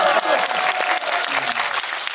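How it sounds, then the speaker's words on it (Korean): Audience applause fills a packed cinema hall during a stage greeting for the Korean film 'The Spring of Seoul', steady and dense crowd clapping throughout with a few faint voices beneath. "박수 치세요."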